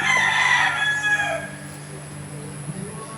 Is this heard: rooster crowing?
yes